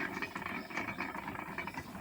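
A rubber sheet rolling machine runs steadily with a continuous mechanical grinding and clattering drone, close and moderately loud, with no voices.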